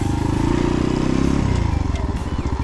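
An X-Pro Storm 150 DLX dual sport motorcycle being ridden, its small single-cylinder engine putting out a loud, rapid, throbbing putter that shifts pitch partway through, heard close with wind rumble.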